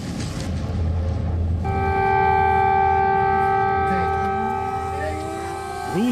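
Air raid sirens wail in Kyiv with long steady tones over a rumble of traffic, several pitches layered together and holding for several seconds, with faint voices nearby.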